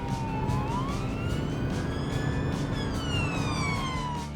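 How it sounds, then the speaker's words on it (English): A police car siren wails in rising and falling sweeps over steady traffic and engine rumble, loud and fairly close, with no talking. "The sirens and flashing lights are used to help cars all around see and hear the police coming."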